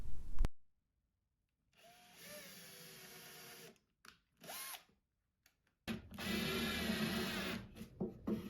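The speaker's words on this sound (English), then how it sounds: "I'm going to drill pilot holes first so that I don't split the wood." Bursts of power drilling pilot holes in a small vintage wooden dresser, a few seconds each with short pauses between, the last one longer and rougher as the bit bites into wood.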